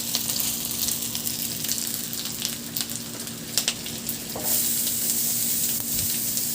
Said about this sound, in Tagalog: itabi ko muna sa kawali at igisa ko na rin yung bawang